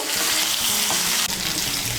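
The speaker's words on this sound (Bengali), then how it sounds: "আলুগুলোকে তেলের সঙ্গে মিশিয়ে নেব। মিশিয়ে নিয়ে লাল করে ভেজে নেব।" Potatoes fry in hot oil for Bengali aloo dum, a loud, dense, close sizzle with a brief dip partway through.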